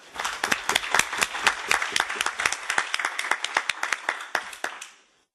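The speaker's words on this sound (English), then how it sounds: "he deserves a round of applause" Audience clapping at a conference session at the EESC in Brussels, a fairly small group giving crisp, distinct claps that swell briefly then thin out and stop near the end.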